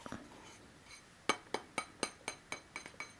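A thin glass cup handled up close, giving a quick series of about eight bright clinks and taps in an uneven rhythm, quiet and sharp with no talking.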